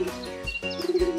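Soft cooing from a flock of pigeons roosting in a large banyan tree, with gentle repeated coos and light chirps layered over a faint background hum in a short passage.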